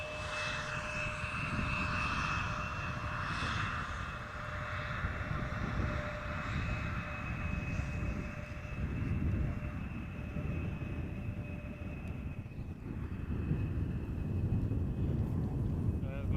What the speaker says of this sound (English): another Air France arriving from Paris Charles de Gaulle